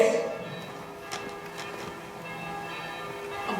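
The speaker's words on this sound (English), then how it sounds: "Merry bells." Merry bells ringing on Christmas Day, a faint chiming peal with sustained tones and a few soft struck notes under a hushed background.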